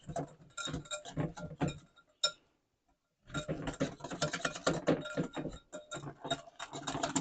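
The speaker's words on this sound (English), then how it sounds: "Give it a good whisk." A whisk rattles rapidly against a bowl while salad dressing is mixed, quick clinking strokes in two bursts separated by a short pause, fairly close and quiet.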